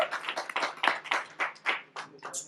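A small audience at a Liger movie promotion event claps in uneven bursts, a thin patter of distinct hand claps rising and falling rather than a dense roar.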